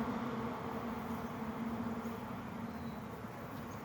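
Bees hum continuously around a hive colony on a cool day, a soft, steady drone with no voices over it.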